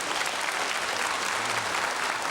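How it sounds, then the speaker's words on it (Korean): Family members applaud together at a televised reunion of separated families in 1983 Korea, a steady, dense burst of clapping filling the room with no talk over it. "지금 저 우리 다른 가족들께서 너무 그냥 기쁜 나머지 박수를 쳐주셨는데요"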